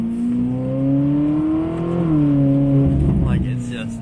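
A Ferrari 458 fitted with an FI exhaust revs steadily, a loud rising and falling engine drone, with a person talking over it.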